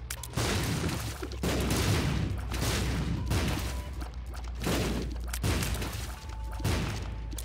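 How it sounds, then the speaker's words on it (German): Explosions in the video game The Binding of Isaac Rebirth go off as a series of loud, booming blasts, roughly five or six in a row spaced about a second apart, with no talking. "Explosions."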